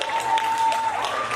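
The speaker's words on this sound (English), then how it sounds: "One round of applause for DRRE, Lydia" Crowd applause at a Rotary district conference, a dense, steady patter of many hands clapping throughout a short stretch, with faint voices mixed in beneath.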